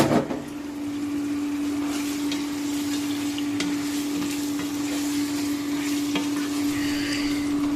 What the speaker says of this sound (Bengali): চিকেন দিয়ে দেওয়ার পর প্রায় 10-12 মিনিট সেটা ভালো করে ভাজলাম মিডিয়াম ফ্লেমে